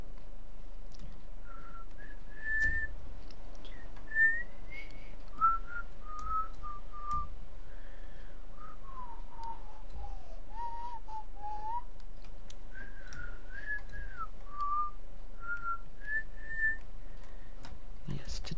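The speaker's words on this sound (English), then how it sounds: "Suck at whistling." A person whistles a wandering melody during a Minecraft session, a thin, somewhat unsteady line of phrases with short pauses, close and clear over a faint low background.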